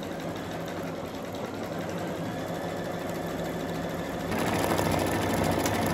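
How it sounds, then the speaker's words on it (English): A Brother Essence VM5200 sewing machine stitches out a decorative pattern, a steady whirring hum with fast rhythmic needle clicks that grows slightly louder partway through, with no talking. "And you can see how nice it is stitching out."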